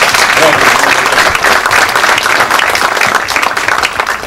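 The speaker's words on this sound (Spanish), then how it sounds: "Fuertes aplausos." Loud, sustained applause from an audience at an engineers' decoration ceremony, a dense steady clapping that fills the whole stretch without pause.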